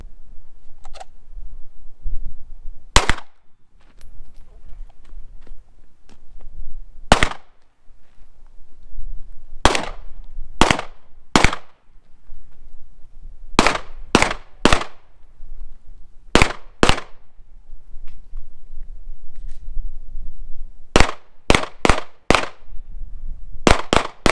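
A Glock 17 Gen5 MOS FS pistol with iron sights fires a 20-round string outdoors, with loud, sharp single reports arriving in irregular bursts and short pauses between them.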